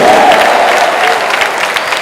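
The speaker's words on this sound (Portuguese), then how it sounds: "Você pode dar uma salva de palmas a Ele" Dense congregation applause at an evening church gathering during a Feast of Tabernacles service, a steady loud wash of many hands clapping throughout, with a faint voice briefly audible at the start.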